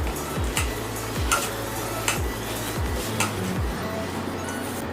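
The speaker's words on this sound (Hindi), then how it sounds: "तो पहले मैं 4 चम्मच सूजी डालने के बाद इसको अच्छी तरह से मिला लेती हूँ" A spoon scraping and stirring semolina into mashed potatoes in a bowl for potato smilies, producing repeated rhythmic scraping strokes and light clinks, close and fairly quiet, no talk.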